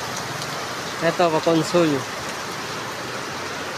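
Heavy rain pours down hard and steadily, a dense continuous hiss throughout, with people briefly talking over it in the middle.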